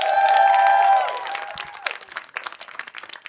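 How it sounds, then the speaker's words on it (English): Comedy show audience applauding and cheering at the close of the night, loud clapping mixed with a sustained whoop or shout at first, then settling into dense, uneven clapping that gradually thins. "give a round of applause for all the amazing acts that we saw here tonight"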